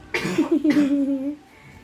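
A child coughs close by in a home kitchen, two or three rough hacking bursts followed by a wheezy, drawn-out catch of breath, then quiet.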